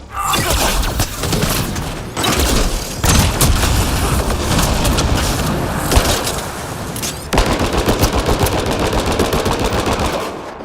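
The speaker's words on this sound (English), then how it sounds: "That's an explosion." Dense gunfire and explosions from combat in the video game Mass Effect Andromeda: loud, continuous bursts of automatic shots with booming blasts and brief gaps, filling the whole stretch without speech.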